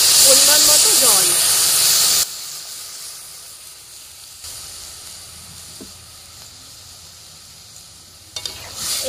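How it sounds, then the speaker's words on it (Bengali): Water poured into a hot pan of olives and turmeric for olive chutney bursts into a loud, hissing sizzle for about two seconds, then settles into a quiet simmer. "এখন আমি এর মধ্যে দিয়ে দিচ্ছি পরিমাণ মতো জল।"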